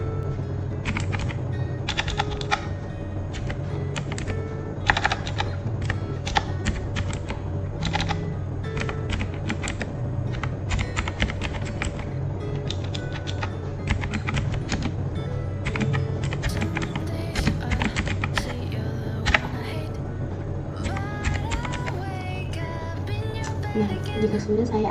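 Someone types on a computer keyboard, producing a rapid, irregular clatter of keystrokes over a steady low hum that runs the whole stretch.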